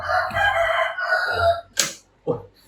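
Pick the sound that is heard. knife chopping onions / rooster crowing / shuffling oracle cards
rooster crowing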